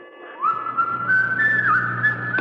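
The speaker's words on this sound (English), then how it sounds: "Somebody's whistling. It's Yankee Doodle." In a radio drama, a lone person whistles the tune of Yankee Doodle, a clear, moderately faint melody heard alone over a quiet background.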